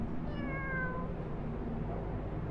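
Cat meowing in the horror video game Zombeer, a single drawn-out, slightly falling meow over a low ambient background hum, fairly quiet.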